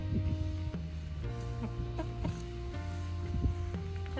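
An egg-bound chicken and others cluck in short, repeated bursts close by, a busy run of soft clucks over a low background hum.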